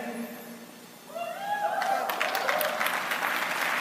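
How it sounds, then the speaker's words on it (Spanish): An audience at a motivational talk breaks into applause that builds to a dense, continuous clatter of many hands, preceded by a voice speaking briefly at the start. "Si me van a aplaudir, apláudanme bien, por favor."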